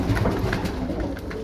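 Pigeons coo close by, soft low throaty calls repeating in a rolling rhythm, with no talk over them.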